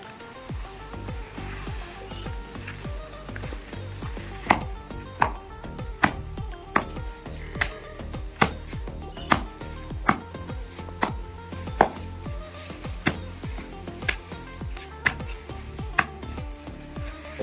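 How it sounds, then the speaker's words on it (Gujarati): Green fodder is chopped for buffaloes on a farm, with steady, rhythmic blade strikes landing about once every second. Each chop is close and sharp over a low background hum, and no one speaks. "લીલાનું કટિંગ કરી અને હમણાં દઈ દઈએ"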